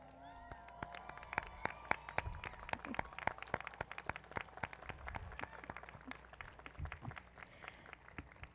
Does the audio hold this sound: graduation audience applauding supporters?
yes